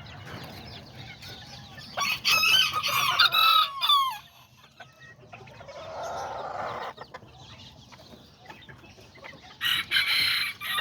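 Kikiriki and Azteca chickens cluck and a rooster crows in bursts, with squawks and calls rising and falling over a quiet farmyard background.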